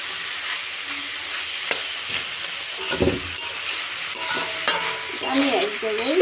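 Mixed leafy greens (stem amaranth, radish and spinach leaves) stir-fried with dried fish: a loud, close sizzle with constant stirring and scraping of the pan, and a brief squeaky scrape near the end.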